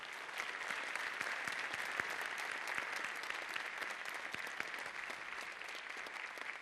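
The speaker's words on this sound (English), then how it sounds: "let's give a warm round of applause to each of our recipients this evening" Steady applause from an audience at a school district awards evening honoring recipients, dense clapping that holds evenly throughout at moderate distance with no voices above it.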